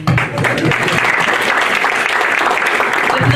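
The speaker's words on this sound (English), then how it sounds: "I think that deserves another clap" A whole audience applauds at a humanitarian foundation's anniversary and award ceremony, a loud, dense, continuous wash of clapping that holds steady to the end.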